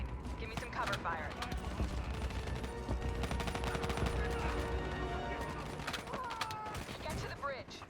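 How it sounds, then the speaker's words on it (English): Video game combat in the Black Ops 3 campaign brings dense automatic gunfire and bursts of shots with mechanical clanks, near and loud throughout, while voices talk over the fighting. "Give me some cover fire."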